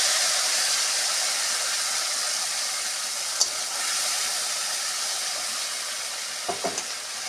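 Spices sizzling and frying steadily in hot oil in a pan after black cumin, for a Bengali potol posto, a continuous close hiss with a few soft clinks of stirring near the end.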